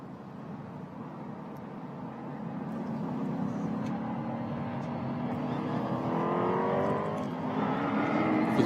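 GTS-X race cars at a track in Utah, engines rising and sweeping past in a steady, building drone that grows louder toward the end, with revving passes layered over continuous road noise.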